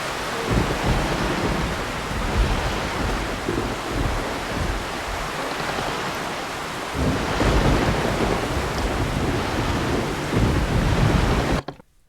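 Storm at sea in the Caribbean Legend video game: continuous roaring rain and wind with heavy crashing waves, a deep rumbling surge partway through, loud and unbroken until it cuts off abruptly at the end.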